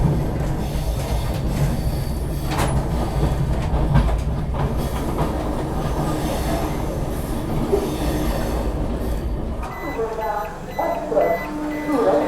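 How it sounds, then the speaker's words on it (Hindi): A Vande Bharat express train rushes past at 130 km/h, its loud, steady rumble and wheel roar filling the whole span. Near the end, sharp squeals of the wheels rise over the din, and voices speak faintly beneath the noise. "फुल स्पीड में 130 की स्पीड में 20901 वंदे भारत क्रॉस है 5 सेकंड में"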